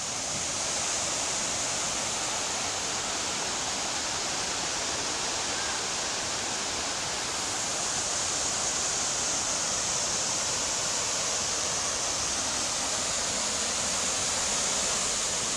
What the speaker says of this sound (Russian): послушать шум горной реки